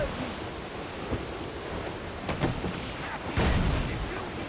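Cannon fire in a naval battle in the video game Assassin's Creed 4 Black Flag, heavy booming blasts over a constant roar of wind and sea, with the strongest volley near the end.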